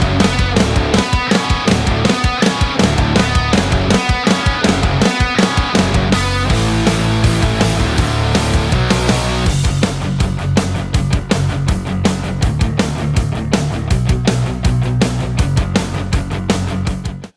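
Drum kit from an alt rock preset with a mid-range tuned Ludwig 402 snare, playing a loud, steady groove of hits and cymbals that shifts to a busier pattern partway through, with no talking.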